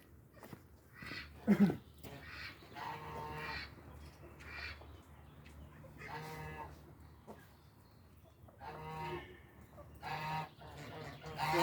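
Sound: geese

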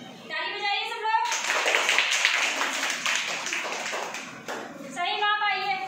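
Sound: children clapping in a classroom

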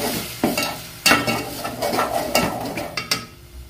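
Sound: stirring tomato paste with fried garlic in a pan

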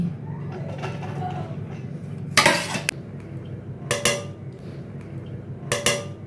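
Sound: rice being added and layered into biryani pot

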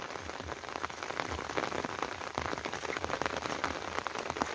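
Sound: rain falling and running water

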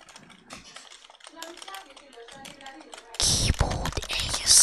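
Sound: computer keyboard typing

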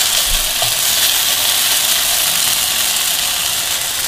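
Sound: frying potatoes in a pan

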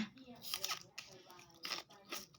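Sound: biting and crunching into food

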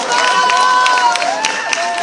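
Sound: warm applause welcoming a guest

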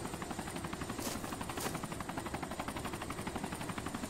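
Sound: helicopter in video game

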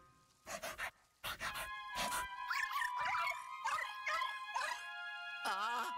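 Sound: ghost dog Polterpup barking in Luigi's Mansion 2 HD video game

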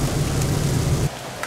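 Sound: torrential rain downpour

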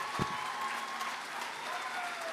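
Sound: audience applause after a piano performance

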